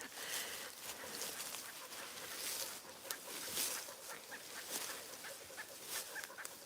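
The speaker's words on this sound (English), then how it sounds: "I hear ducks." Poultry on a ranch, with ducks among them, make a continuous noisy chorus of clucks and quacks outdoors near trees and water, at moderate distance with steady broadband rustle throughout.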